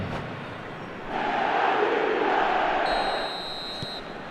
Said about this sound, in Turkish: Stadın dört bir yanından destek tezahüratlarını duyabiliyoruz.